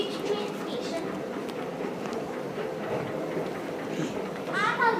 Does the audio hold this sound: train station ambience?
yes